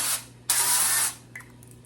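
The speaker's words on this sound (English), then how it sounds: "I'm going to spray both pans lightly." Two short hissing bursts of cooking spray onto baking pans, the second longer and louder, followed by a faint tap or clink.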